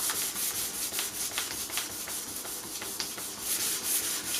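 Pumice powder is rubbed into a wooden gun stock by hand, a soft, quiet scratchy rubbing repeated in quick back-and-forth strokes, close up and with no talk.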